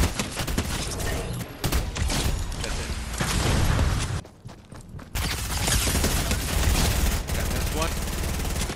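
Sustained automatic gunfire from an online shooter video game, dense bursts of rapid shots running almost continuously with a brief lull midway, loud and close in the mix.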